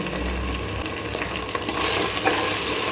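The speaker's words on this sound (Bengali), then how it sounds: "ভালো করে নেড়ে দেবো।" Onions with a little sugar frying in a pot for a one-pot Bengali chicken curry, stirred with a steady sizzle and scraping strokes that grow slightly louder toward the end, close and continuous with no talk.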